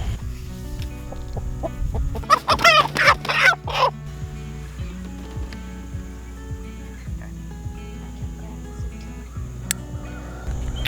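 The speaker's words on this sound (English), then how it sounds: "These guys aren't the most handled chickens." A quick flurry of loud clucks and squawks from chickens close by as they are handled, then faint scattered clucking over steady background hum and rustling.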